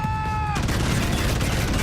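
Dense, continuous gunfire rattles in Deus Ex: Human Revolution, bursting in suddenly after a brief tonal chime and holding loud, close and unbroken to the end.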